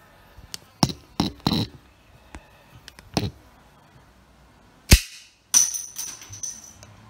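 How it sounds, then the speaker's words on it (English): A cap gun fires a series of sharp snapping pops in an irregular pattern, several weak clicks and bursts followed by two louder cracks near the end, close by with no talking. "Once again, the cap gun fails to be good for anything."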